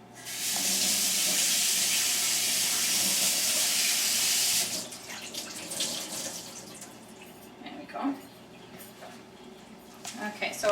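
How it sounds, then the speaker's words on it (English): Tap water gushes loudly into a sink for about four seconds as a cleaning cloth and a spare sponge are rinsed, then cuts off, leaving faint handling noises while a person speaks. "I'm just going to wet my spare sponge. Oh, and I'm going to rinse my cloth while I'm here."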